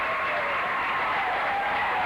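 Basketball crowd at a 1992 girls' high school sectional quarterfinal in Athens, Logan versus Lancaster, reacting after two quick fouls: a steady, dense wash of applause and cheering filling the gym throughout, with no voices standing out.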